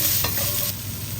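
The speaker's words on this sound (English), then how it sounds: "Into the wok, we're going to add the onions" Onions drop into a hot wok for a beef and Anaheim pepper stir fry, setting off a loud close sizzle with a quick stirring scrape at the start.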